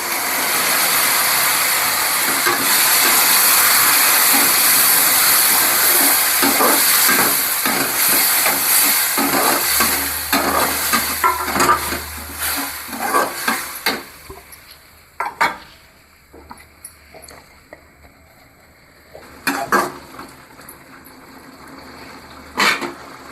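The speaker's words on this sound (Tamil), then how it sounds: "தக்காளி இந்த மாதிரி கொதிக்கும் போது" Ground tomato mixture bubbles hard in a pan with a loud, steady hiss, then quiets while a spoon scrapes and clatters against the metal.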